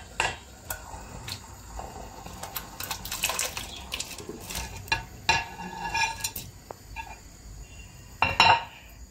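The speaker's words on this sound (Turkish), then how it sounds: "köftelerin hepsini şekillendirdim böyle görmüş olduğunuz gibi ve kaynamakta olan salçalı suyun içerisine dökeceğim şimdi" Shaped meatballs tipped into boiling tomato-paste water in a pot, with clinks of utensils against the pan and a stirring, bubbling clatter in a home kitchen; brief louder knocks near the end.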